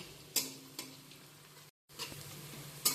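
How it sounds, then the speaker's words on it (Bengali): Sliced onions fry on a high flame for biryani, stirred continuously: a steady close sizzle broken by sharp scraping spoon strokes, with a brief silent gap midway. "পাঁচ মিনিট হাই ফ্লেমে অনবরত নেড়ে নেড়ে আমি পেঁয়াজটা ভেজে নিচ্ছি"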